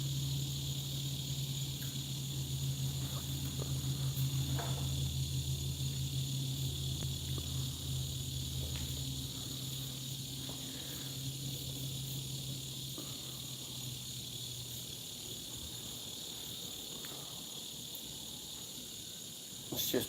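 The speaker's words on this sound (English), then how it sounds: "You can sit here and listen to all the crickets and What is grasshoppers. it? The cicadas." Crickets and cicadas on a summer night in Georgia keep up a steady, dense chorus of layered high trills that fills the whole stretch, with a lower droning buzz swelling through the first half.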